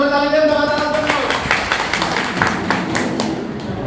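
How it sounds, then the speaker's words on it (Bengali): An audience at the Delphi Cinema claps loudly, a dense patter of hands that holds steady for several seconds, with a voice speaking over the start. "সবাই একটা জোরে তালি দেন তো।"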